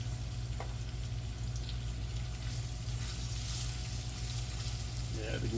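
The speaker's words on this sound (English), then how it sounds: "we're going to get this beef into the pot and get it browned up" Beef pieces browning in oil inside a cast iron cauldron set over hot coals, a steady close frying sizzle running throughout with low hum beneath and a brief clatter near the end.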